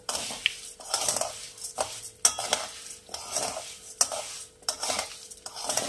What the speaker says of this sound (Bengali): আমি দিয়ে দিচ্ছি সিমুই বা ভার্মিসেলি। এটা রোস্টেড আছে, তবুও আমি একটুখানি ভেজে নেব।